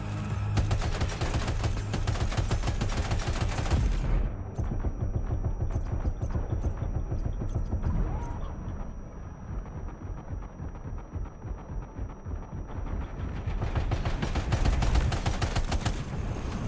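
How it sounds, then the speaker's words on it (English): Sustained machine gun fire in Death Stranding 2, a dense, loud stream of rapid shots with a brief thinning in the middle before the full barrage resumes, booming and continuous throughout. "If you can equip the machine gun"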